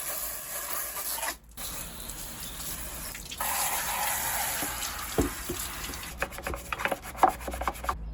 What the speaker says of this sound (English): If I hose it from above, you can see some of those bits coming down and washing out